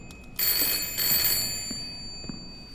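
A ringing telephone in the horror game Layers of Fear, a bright trilling bell that begins sharply, pulses in a burst, then fades toward quiet with a few soft knocks, heard alone without speech.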